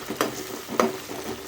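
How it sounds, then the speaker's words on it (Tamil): Tomatoes sautéing in a pan for a Chettinad-style pepper mushroom dish, with a soft steady sizzle and a couple of louder spatula stirs about half a second apart, close and fairly quiet. "இந்த தக்காளி நல்லா வதங்கட்டும்."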